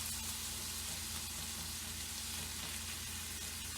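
Food frying in rendered bacon fat in a wood-fired pan, giving a steady, loud sizzle that stays even throughout, with no voices.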